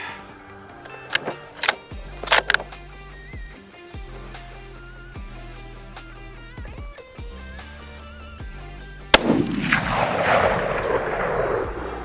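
Ruger American Gen 2 rifle in .308 fired outdoors: several sharp, loud shots with a couple of closely spaced cracks early on, then a heavier burst of noisy blast and echo near the end, over a steady low background hum.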